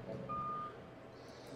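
Reversing beeps from a construction vehicle in Jurassic World Evolution 2, a single steady tone pulse heard clearly over a low rumbling engine and ambient game hum.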